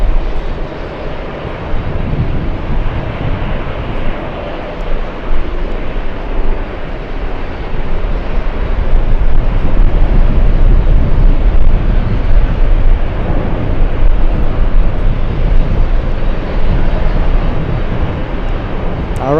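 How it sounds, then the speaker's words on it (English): An Airbus A380 takes off at JFK airport, a loud sustained jet roar that swells and broadens midway and keeps rumbling heavily through the end, heard from an outdoor spotting spot without talk. "Back-to-back A380 takeoffs in front of the LA Flights cameras"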